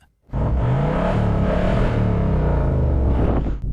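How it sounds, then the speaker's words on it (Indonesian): A new $150,000 car's engine roars into a loud, sustained rev right up close, holding a deep throaty rumble for several seconds with no talking over it. "Dengar suara mobil ini gila."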